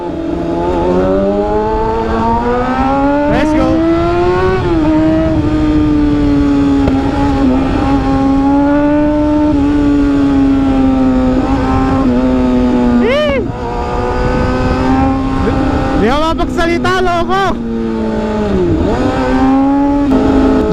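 A loud 600cc sport motorcycle engine from a Yamaha R6 and Kawasaki ZX6R drones continuously close by, with its pitch rising and falling as it revs. Sharp whining bursts of acceleration cut through several times.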